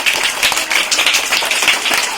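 Many people keep clapping without pause at a felicitation ceremony with shawls being presented, a dense, even wash of applause heard up close throughout.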